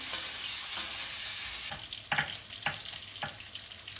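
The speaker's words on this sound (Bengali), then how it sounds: "বড়িটা ভেজে নেবো একটু অন্য কড়াইতে" Hot oil sizzles steadily in a wok as lentil dumplings fry, with a few sharp scraping clicks of a utensil stirring them.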